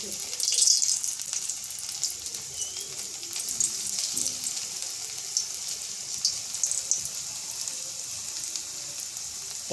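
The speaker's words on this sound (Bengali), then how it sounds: "তো আমি ফ্রাই করে আপনাদেরকে একবার কয়েকটা ফ্রাই করে দেখাচ্ছি" Potatoes deep-frying a few at a time in hot oil over low heat for poppy-seed aloo bhaja, a steady bright sizzle and crackle running throughout at moderate level.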